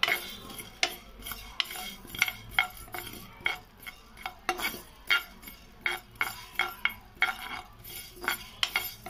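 Fenugreek and mustard seeds roasting in a pan for instant tomato pickle, with a spoon scraping and clinking against the metal in a steady rhythm of sharp clicks over a faint background, no voices.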